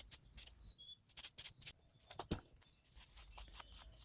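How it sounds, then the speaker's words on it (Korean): Small birds chirp and tweet outdoors in short, bright, scattered calls, fairly faint and distant, with light indoor handling noise in the background and no talking. "새소리가 장난 아니네요."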